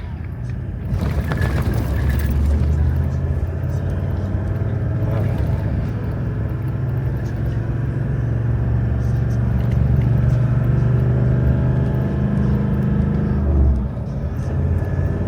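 Vehicle driving on a corrugated dirt road, a loud, steady engine rumble with a continuous rattling, juddering undertone throughout, close and unbroken.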